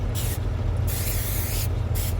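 Several short bursts of aerosol cooking spray hiss into a pan in quick succession, close and fairly loud, with brief pauses between them.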